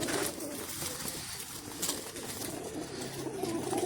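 Old and young racing pigeons cooing in a loft, a soft continuous murmur from a few birds close by, with light rustling and no talk.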